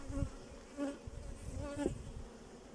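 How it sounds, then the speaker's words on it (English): Honey bees buzzing steadily around an open beehive as frames are lifted and honey supers added, a close, continuous insect hum with a few louder swells. "you've got a lot of bees down there working away, which is awesome"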